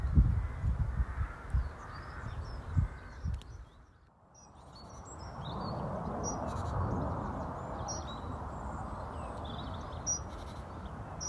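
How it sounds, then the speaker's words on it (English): Dense birdsong with scattered chirps and calls rings out at a nature reserve over a steady low rumble of a plane overhead, with a brief dip in sound partway through. "the birds are drowning it out. They're definitely in full voice today."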